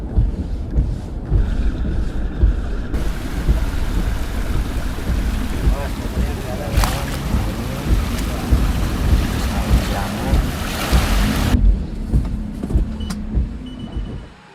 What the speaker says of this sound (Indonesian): Mobil ini mampu melewati genangan air dan kabinnya pun aman, tetap kering.